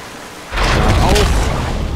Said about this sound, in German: Und dann explodiert alles.